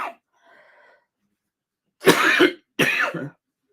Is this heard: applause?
no